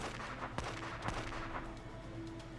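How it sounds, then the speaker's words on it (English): A pistol fires in the Vampires' Melody video game: a few sharp, loud shots ring out over a dense, rumbling background, with no talking. "When I squeeze the trigger, the pistol issues a deafening noise."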